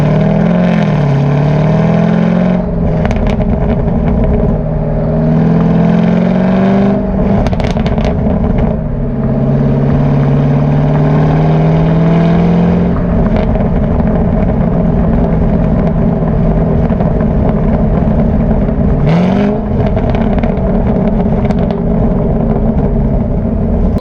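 A car with a modified exhaust drives on a cold day in Michigan: a loud, close engine drone rises and falls with revving, broken by a few short sharp bursts, and no one speaks.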